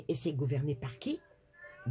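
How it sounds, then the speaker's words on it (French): A pet cat cries and meows softly indoors, its thin wavering call heard in a short pause between stretches of a person talking in French. "C'est mon chat qui pleure"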